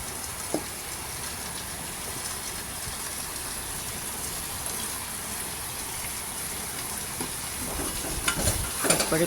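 Chopped onions stirring and frying with meat in a pan for a street-style chicken soup, a steady low sizzle with soft scraping and a few louder clatters near the end.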